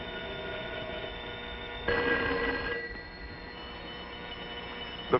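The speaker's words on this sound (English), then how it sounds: "The phone, the telephone, and Tom understood what was happening." A telephone rings in a dramatized story about a small gray box on a pole, a bright burst of ringing rising over a low steady background for about a second, then fading back.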